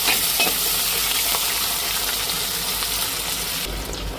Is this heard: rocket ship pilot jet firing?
no